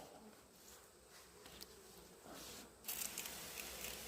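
Bees hum quietly in a hive, a soft continuous drone with a brief rise in scratchy noise near the end.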